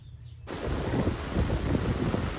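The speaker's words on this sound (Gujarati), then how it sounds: "વીજળી છેડે જોરદાર વરસાદ ચાલુ થઈ ગયો" A sudden burst of loud, heavy rain pours down in a village after sowing, a dense steady roar with low thunder rumbling beneath it, starting abruptly after a brief quiet moment.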